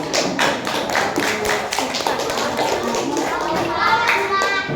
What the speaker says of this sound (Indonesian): berarti tepuk tangan dulu